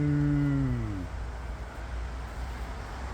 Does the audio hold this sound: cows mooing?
yes